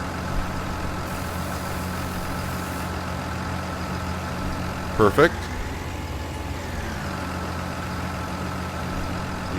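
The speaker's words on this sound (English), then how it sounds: "Leave that engine running." A truck engine idles with a steady low rumble in Farming Simulator 19 on a farm in spring thaw, continuous throughout, briefly broken by a short mechanical clatter midway, with someone speaking over it.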